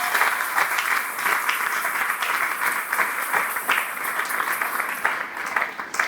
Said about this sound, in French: Can you clap our hands for them?